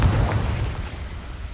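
A Confringo spell blast in Hogwarts Legacy, a deep, loud booming explosion with a rumbling low-end tail that sustains for over a second.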